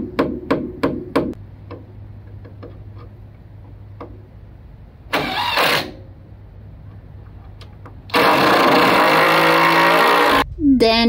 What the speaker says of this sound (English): And then we tried to drive it around and it's very noisy.